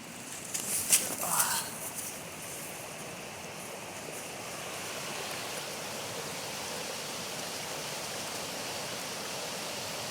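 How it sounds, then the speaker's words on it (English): A small creek along a trail flows with a steady broadband rush. Brief handling noises come early on, then the water carries on alone at moderate level. "Another little baby creek."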